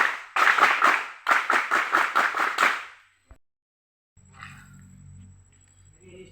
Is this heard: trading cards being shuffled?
no